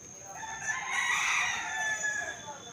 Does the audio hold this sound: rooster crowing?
yes